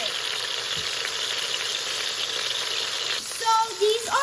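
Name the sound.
oxtail meat browning in a frying pan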